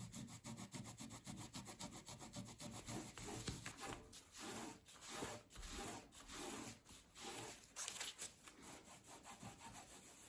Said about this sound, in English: I'm actually trying not to rub too hard